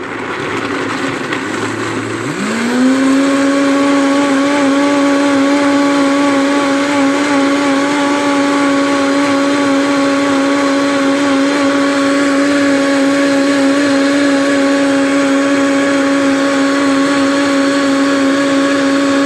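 Blender crushing walnuts with water for walnut milk, a motor that ramps up after a couple of seconds and then holds a loud, steady whirring drone for the rest of the run, with no one talking.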